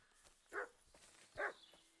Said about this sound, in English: It's another dog somewhere.